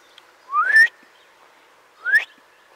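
A loud whistle sounds twice outdoors to call an animal: two sharp rising blasts about a second and a half apart, with quiet between them and no talking.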